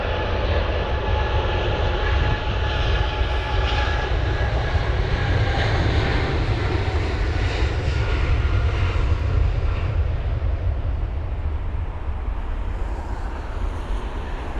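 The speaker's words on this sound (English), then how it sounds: "we go back to the Kuwait Airways that's actually departing now" A Kuwait Airways jet airliner departs from London Heathrow in stormy, windy weather, its engines a continuous loud roar that holds steady for the whole stretch, with no talking.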